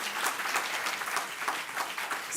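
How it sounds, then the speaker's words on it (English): An audience at a university lecture-series event claps in a round of applause, a dense close patter of many hands that holds steady for a couple of seconds with no talking. "Let's give them a round of applause."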